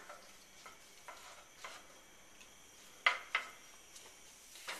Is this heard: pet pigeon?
no